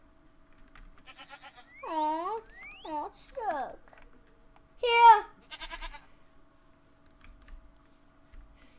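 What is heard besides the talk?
sheep bleating in a video game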